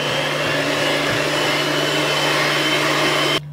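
An electric mixer beats eggs one at a time into creamed butter for petit fours, a loud, steady motor whine that runs without a break and then cuts off abruptly at the end.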